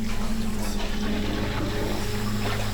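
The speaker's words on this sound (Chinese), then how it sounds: "就听到有很明显的冲水声" A toilet flushing in an empty restroom: steady rushing, gurgling water with a low tonal hum runs continuously at moderate level throughout, with no voices.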